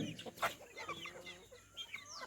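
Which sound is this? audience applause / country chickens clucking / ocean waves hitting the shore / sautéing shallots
country chickens clucking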